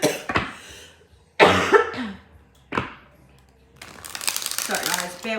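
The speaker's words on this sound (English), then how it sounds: "bear with me with the coughing" Several harsh, bursty coughs from a person nearby during a tarot reading, spaced irregularly with sniffling and rustling between them, the last stretch denser and noisier.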